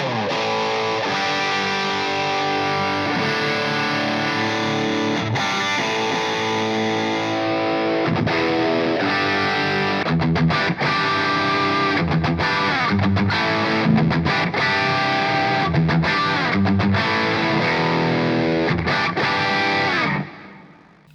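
Electric guitar played through a Red Seven Amp Central EVO amp modeler, heavily distorted with chorus-like effects, with loud continuous chords and riffs stepping through different presets before the sound cuts off at the end.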